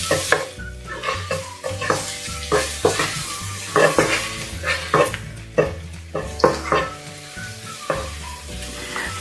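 Garlic sizzling in hot oil in a pan while being stir-fried for a chicken and banana pepper dish, with repeated clatters of the spatula scraping and stirring in a steady rhythm, close and fairly loud.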